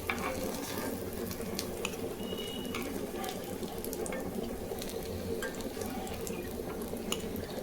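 White sesame fritters fry in oil, a continuous bubbling sizzle with a busy crackle, steady and moderately close, with a few light clinks.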